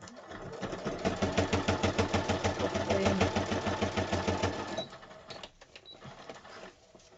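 A sewing machine stitches through the pages of a handmade raggedy stationery book, running in a fast, steady mechanical rhythm for about five seconds before stopping, with quieter handling noises afterward.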